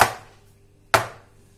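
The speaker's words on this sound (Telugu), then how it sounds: "ఇలా కేక్ మిక్స్ పోసిన తర్వాత ఒక 2 టైమ్స్ ఇలా టచ్ చేయాలి" A cake pan filled with eggless coffee cake batter is tapped twice on a surface to settle it, giving two sharp, close knocks about a second apart, each followed by a brief ringing decay, with nothing else heard.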